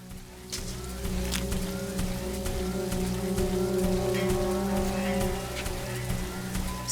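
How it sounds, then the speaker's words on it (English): Rain in the video game The Riftbreaker, a steady hiss of falling drops on surfaces layered over a low droning hum, holding at an even moderate level throughout after a quieter first half-second. "It's raining."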